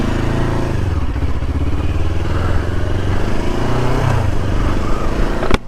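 A Kawasaki Ninja 500 SE rides along with its engine droning and revving up and down, loud and close, with some rattling and wind noise and no clear speech.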